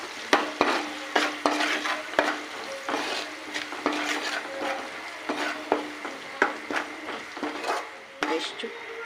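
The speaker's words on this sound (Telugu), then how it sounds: "ఇది ఆయిల్లో ఫ్రై చేసుకోవాలి." Ginger paste fries in oil with salt, giving a steady close sizzle broken by frequent sharp scrapes and taps of a stirring utensil against the pan; no one speaks.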